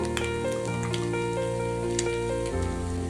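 Chicken pieces fry in a hot pan for chicken fried rice, giving a steady, even sizzle that runs continuously beneath prominent background music.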